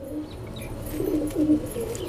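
Soft, low pigeon coos rise briefly over a quiet background, a couple of gentle murmuring calls close to the microphone.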